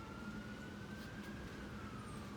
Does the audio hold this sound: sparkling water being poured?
no